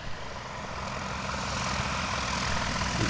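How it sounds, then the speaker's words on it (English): A light propeller airplane coming in on approach for a short-field landing at a fly-in in Washington, its steady engine drone loud and close and swelling slightly as it nears. "This pilot approaches a bit too fast. Has to do a go around."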